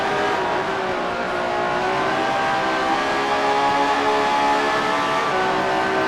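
A 1967-era Grand Prix car laps Spa in the Grand Prix Legends racing game, its engine droning steadily at high revs with little change in pitch, loud and continuous throughout.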